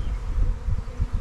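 A honeybee swarm buzzes in a dense, continuous low drone, close and steady for a brief moment with no talking.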